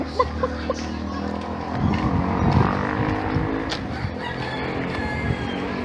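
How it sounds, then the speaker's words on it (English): Rooster crowing outdoors in a rural Philippine village, a drawn-out call rising over a busy background of passing traffic and other fowl clucking, heard at moderate distance rather than close up. "Rooster,"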